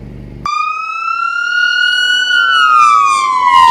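An ambulance siren starts abruptly and wails loudly nearby as the vehicle rushes to a prison riot at the California Men's Colony, one long rising tone that slowly falls.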